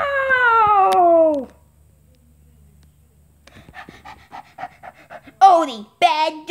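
A cartoon dog pants in a quick rhythmic burst with a whining voiced quality, followed after a pause by people talking.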